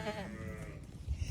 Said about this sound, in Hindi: बकरी देखे माशाल्लाह ऊंची बकरी है, खूबसूरत बकरी है